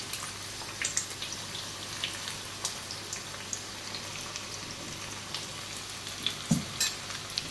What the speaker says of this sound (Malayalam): നമ്മൾ സെക്കൻഡ് ട്രിപ്പ് ഇട്ട വെണ്ടയ്ക്കയും ഫ്രൈ ആയിട്ടുണ്ട്.